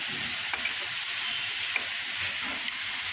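Water-mixed spice paste is added to fried potatoes and onions for a fish-head muri ghonto, producing a steady close sizzle with occasional small pops and stirring sounds, no voices.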